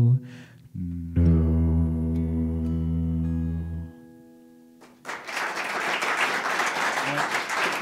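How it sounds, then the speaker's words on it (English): Audience applause bursts out in a radio studio right after a live song's final sustained note fades, a full, lively round of clapping that carries on to the end. "I couldn't hear you over the clapping."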